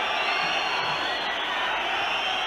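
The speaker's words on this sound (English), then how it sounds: "Crowd willing the final whistle." Dense football crowd noise at Kettering Town versus Bristol Rovers in an FA Cup second round match, a steady roar of many voices that holds without a break, with scattered whoops and shouts rising out of it.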